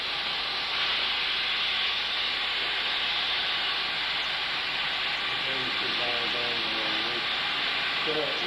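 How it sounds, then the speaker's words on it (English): Steam hisses through the engine of a steam car being started, a continuous broad hiss with faint mechanical ticking underneath, no speech heard. "Now you're starting to hear little steam go through the engine."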